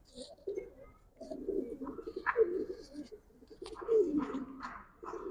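Giribaz pigeons at a loft coo in soft, throaty, repeated phrases, several birds close by and fairly quiet, with a few brief higher chirps mixed in.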